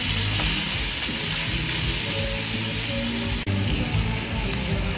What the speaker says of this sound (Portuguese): Bem fritinho.